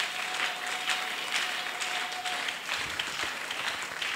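A church congregation at a Kingdom of God convention applauds in acclamation, dense clapping spread through a large hall, steady and sustained, with a faint held tone early on and a brief low thump near the end.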